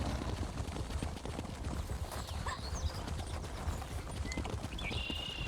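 Horse hooves clip-clop steadily in the video game Elder Scrolls Online, a close, even rhythm of clops with faint game effects and chimes over the top.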